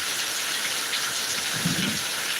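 Heavy monsoon rain pours steadily in Thiruvananthapuram, a dense, even hiss filling the air with a faint low rumble near the end.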